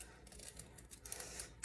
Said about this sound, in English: use one of your good scissors